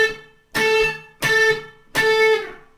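Guitar A octave played on the third and first strings with the second string deadened, struck three times in a row, each a loud, close twangy chord with a muted scratch that rings and then fades.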